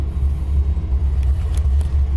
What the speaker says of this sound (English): here it is. Idling at like 600, 700 RPM